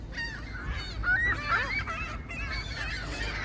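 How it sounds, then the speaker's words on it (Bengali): Geese honk in a close, overlapping chorus on a lake in Toronto at Bluffers Park, the nasal calls rising and falling in quick succession over faint ambient noise. "এই লেকের মধ্যে হাজার হাজার পাখির খেলা পড়ন্ত বিকালে"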